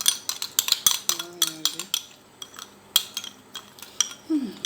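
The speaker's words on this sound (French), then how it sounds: "Je vais mélanger rapidement." A spoon quickly stirs honey and lemon in a cup, giving a rapid run of bright metallic clinks and taps up close, with a short hum of voice partway through.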